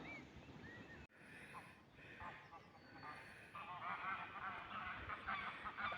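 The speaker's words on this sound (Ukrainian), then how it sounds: "Гвалт сочинили гуси" Geese honk repeatedly at a distance in an evening forest in Denmark in spring, their calls layered over a steady outdoor hum with a faint voice now and then.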